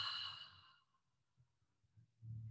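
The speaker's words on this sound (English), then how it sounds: "So we can inhale through the nose and exhale through the mouth." A single slow breath drawn in through the nose and released through the mouth, a soft airy exhale up close, fading into quiet with faint low breathing noises after.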